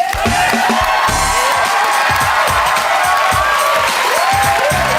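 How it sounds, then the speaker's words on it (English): A studio audience at a dating show cheers loudly and continuously, with whoops and clapping blended into a dense, sustained roar. "Give up a big cheer for Malia Chew"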